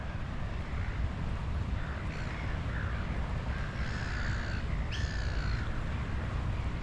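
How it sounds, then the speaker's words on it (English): Harsh seagull calls cry out a few times at moderate distance over a strong, constant rush of wind and water. "It's just good to see all those seagulls down here."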